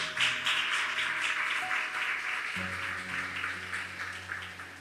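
A church congregation claps for the Lord, a soft, fairly distant spread of many hands that tapers off over several seconds, with a low sustained musical tone in the background.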